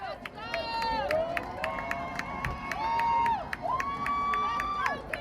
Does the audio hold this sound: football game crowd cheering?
yes